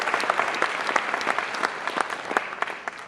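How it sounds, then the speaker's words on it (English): Audience applause fills a spring 2014 college convocation for faculty, staff and administrators: dense, steady clapping from a large crowd, with no voices over it. "Please give yourselves a big round of applause."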